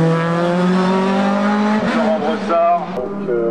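A Porsche 996 GT3 racing in a hill climb, its loud engine note rising steadily through the gears before a brief dip and another climb, heard close and sustained.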